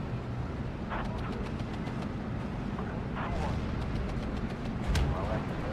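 Tank guns firing in Steel Division 2, a few sharp reports standing out over a dense, steady low rumble of battlefield noise, with a louder blast near the end; a voice is faintly present.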